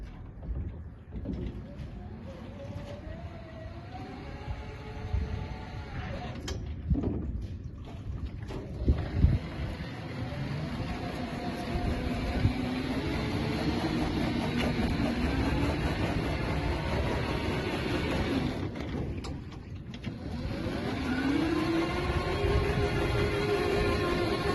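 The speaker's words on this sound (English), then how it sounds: "Next, we will use the remote control to control the device to move forward," Remote control boom sprayer (SPRY600BB) driving forward, backward and rotating, giving a steady motor drone with shifting pitch throughout, under wind noise on the microphone, with louder bumps in the middle.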